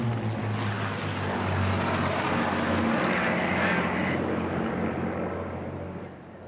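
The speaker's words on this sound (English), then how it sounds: "a Spitfire and a Hurricane completed 3 laps over Captain Tom's house for a special birthday flypast" A Spitfire and a Hurricane fly past on a special birthday flypast, a propeller-engine drone swelling overhead and then fading into the distance.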